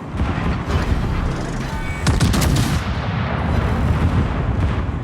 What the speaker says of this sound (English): Those secondaries are hitting a decent amount.